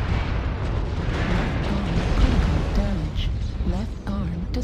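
Missile explosions in the MechWarrior Online game rumble as a continuous heavy boom and roar, with a voice speaking over the blasts throughout.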